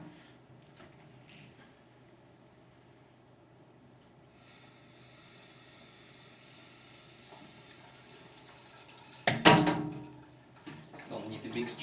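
Cooling water bursts from a tap into a reflux still, starting as a sudden loud gush after a long quiet stretch and settling into a steady, lighter running stream.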